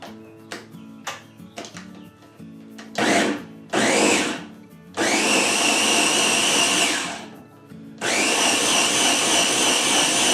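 A blender grinds ingredients for a banana cream pie sipping cream, first in short pulses and then in two long, loud whirring runs separated by a pause, preceded by a few light knocks and clicks.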